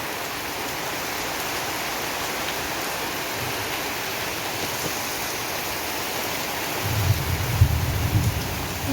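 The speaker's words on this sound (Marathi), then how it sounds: "कोणाकोणाच्या इकडं असा पाऊस चालू झालेला आहे" Steady heavy rain pours down in a continuous dense hiss, with a low rumble swelling near the end.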